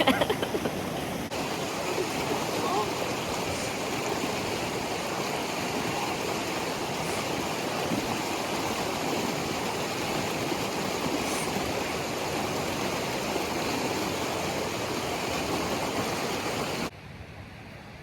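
River water rushes steadily at a knee-deep crossing in the High Sierra, a broad constant roar close by that holds evenly throughout and drops off abruptly at the very end.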